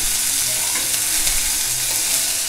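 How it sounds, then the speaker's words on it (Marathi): Onion and green chili sautéing in hot oil for a ridge gourd vegetable dish, giving a loud, continuous sizzle and crackle close up, with no voices. "आणि कांदा आणि मिरची चांगलं जरा तेलावर परतून घ्यायची"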